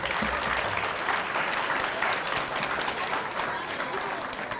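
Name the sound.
applause for D.A.R.E. graduates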